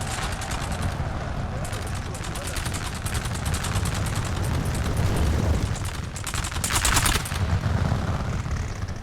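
Cannon fire rumbles throughout a Napoleonic battle in Egypt in a strategy video game, a dense, continuous barrage of booms and crackling volleys that stays loud for the whole stretch, with swells of heavier fire midway and near the end.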